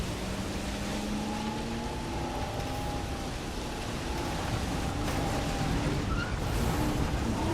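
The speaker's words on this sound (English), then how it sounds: "the winds is getting really crazy out here" Strong wind gusts across Isla Nublar in a video game while a vehicle drives, making a continuous broad roar that holds loud and steady throughout. No voices are heard over it.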